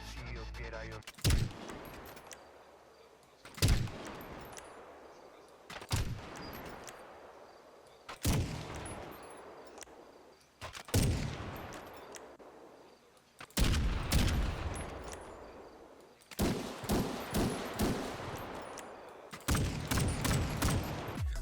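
Gunshot sound effects from a FiveM mod for a video game, a series of about a dozen loud separate shots with reverberant tails, some in quick double bursts, no speech.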